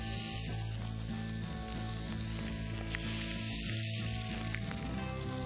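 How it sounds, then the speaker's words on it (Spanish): Meat searing in a hot pan gives a loud, steady, continuous sizzle that runs without a break, close and alone with no talking. "Todo esto lo vamos a asar bien y luego reservarlo."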